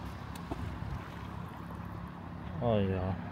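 Water sloshes and laps softly, then a small motorboat's engine hums past close by near the end, rising briefly in loudness.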